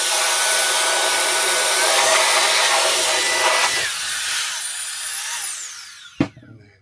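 Dust is blown out of a laptop fan grill inside a motorhome with a loud, steady high-pitched hiss of air, shifting tone as it tapers off, ending with a sharp knock.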